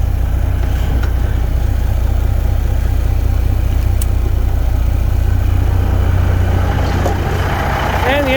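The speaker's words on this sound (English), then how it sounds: "Let's go ahead and turn on the fan." A loud, steady diesel engine on a 1995 Freightliner FLD 120 truck drones with a constant low rumble and a rushing engine fan whir, unbroken throughout, heard up close.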